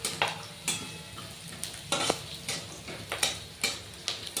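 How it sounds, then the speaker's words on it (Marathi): Onion, green chili and peanuts fry in hot oil with cumin and mustard seeds for kande pohe, with sharp spoon scrapes and stirring clatter recurring in an uneven rhythm over a faint sizzle, close by. "कांदा, मिरची आणि शेंगदाणे मस्त होत आहे."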